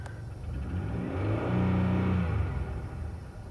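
A 3100 engine revving up and back down, its steady mid-range rumble swelling loud and then easing off, with no distinct knock standing out above the engine drone.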